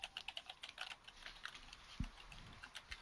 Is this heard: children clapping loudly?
no